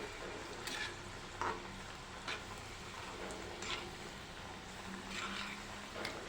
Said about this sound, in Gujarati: ચારથી પાંચ જેટલી આપણે વડી મૂકીશું અને તેને તળી લઈશું મીડિયમ ગેસની ફ્લેમ ઉપર તેને તળવાની છે